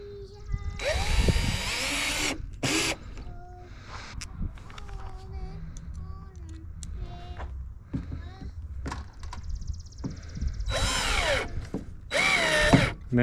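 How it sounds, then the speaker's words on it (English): A power drill whirs in a few loud bursts, drilling a hole in a fishing kayak, starting and stopping, with quieter handling clatter and mechanical noises in between. "So I'm going to drill my hole."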